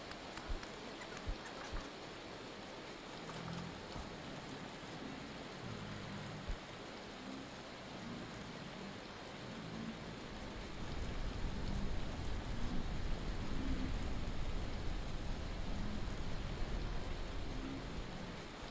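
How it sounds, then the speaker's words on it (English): Hail falling in the Vintage Story survival game: a dense, continuous patter of hailstones and rain that grows noticeably louder and heavier about halfway through, with scattered sharper impacts and no talking. "I wanted to fight, and now it's hailing."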